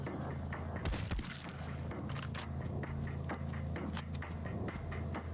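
Gunfire in the video game El Paso, Elsewhere, loud bursts of shots and booms with mechanical clicks over a constant low background hum.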